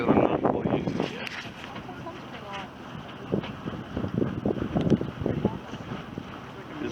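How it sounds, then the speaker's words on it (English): Wind gusts buffet the microphone during a boat ride near Kenora, a steady blustery rush with a person talking over it throughout. "This wind is truly my savior though."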